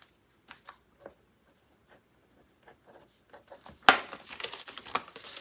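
Paper cash bills handled and stuffed into an envelope: a few soft isolated rustles and flicks, then a close burst of crinkling paper and sliding bills that continues in quick bursts.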